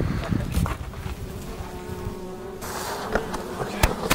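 Bees buzz around a top bar hive outdoors, a steady insect drone with a few louder passes close to the microphone and scattered knocks and rustles.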